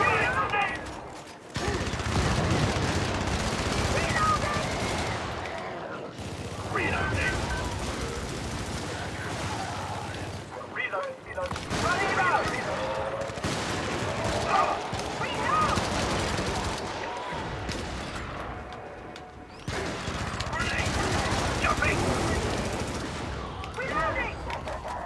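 Sustained automatic gunfire from a Punisher character in a shooter video game, long continuous bursts with brief pauses between them, loud and close, with game voices heard at times.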